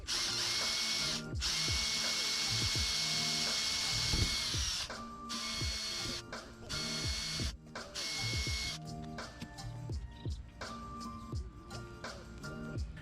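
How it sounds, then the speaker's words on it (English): A power drill with a 9/64 bit whirs loudly in several bursts, pre-drilling holes in a vintage trailer; steady high whine with brief stops between, a close, continuous mechanical drilling sound. "I am pre-drilling the holes using a 9/64 drill bit"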